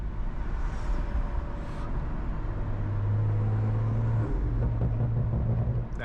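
A BMW M340i with the B58 engine being driven at night through Midtown Miami, a steady loud low engine and intake drone heard from inside the car that rises in the second half, with no talking.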